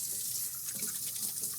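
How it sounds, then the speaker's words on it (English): Hot water runs steadily from a kitchen tap, a continuous hiss and splash filling a sink or bowl while raw chicken is being washed, close and alone with no voices. "Get some hot water in there."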